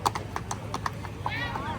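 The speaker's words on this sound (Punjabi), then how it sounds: "ਘੋੜੇ ਦੀ ਚਾਲ ਚੈੱਕ ਕਰੋ" A horse walking at a horse market, its hooves clip-clopping in a steady, moderately close rhythm of distinct hoof strikes against background crowd noise.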